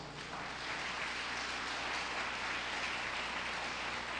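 Dense, continuous clapping from a large church congregation fills the space at an even level throughout.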